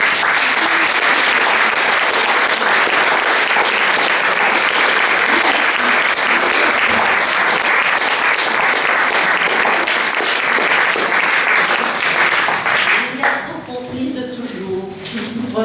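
An audience applauds warmly for a performer at a French literary and musical event, a dense, steady wash of clapping lasting over twelve seconds before thinning out, with a voice beginning to speak at the end.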